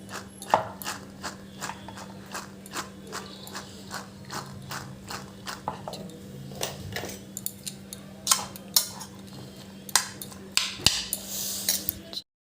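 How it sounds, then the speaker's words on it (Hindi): Lemon and chaat masala are mixed in a bowl, giving a steady series of clicking spoon-on-bowl taps and scrapes, close and moderately loud, over a low background hum. "इसमें हम डालेंगे चाट मसाला और इसको अब कर लेंगे मिक्स"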